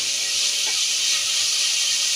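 Tomatoes frying in a pan for a Tamil spinach and lentil dish, a steady close hiss and sizzle without talk.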